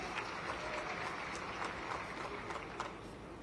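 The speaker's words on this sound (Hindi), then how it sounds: "ताली बजे तो ऐसा लगना चाहिए कि ताली बजी है" A large crowd at an outdoor public inauguration ceremony for a highway project claps in a continuous, dense roar of applause that stays loud and even throughout, with a few sharper claps rising above the wash.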